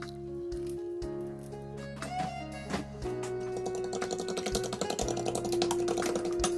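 Rapid, light clinking and tapping of a utensil against a bowl while beating two eggs, steady and continuous like whisking, with a faint background hum.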